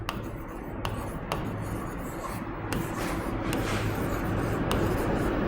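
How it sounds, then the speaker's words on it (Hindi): Pen or marker writing out a chemistry question on a board or paper, a continuous scratchy rubbing of strokes with a few sharp ticks, close and steady without talk. "क्वेश्चन लिख लेते हैं"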